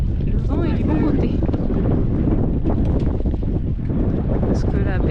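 A light northeast breeze buffeting a sailboat on a cruise at a bay anchorage, loud gusty wind rumble against the microphone with boat sounds, while people talk over it.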